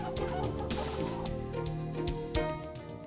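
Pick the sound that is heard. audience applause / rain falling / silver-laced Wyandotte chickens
silver-laced Wyandotte chickens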